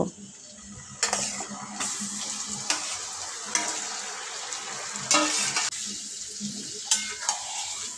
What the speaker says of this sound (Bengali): মশলা আমার ভালোভাবে কষানো হয়ে গেছে এবার ম্যারিনেট করা মাটনটা দিয়ে দেব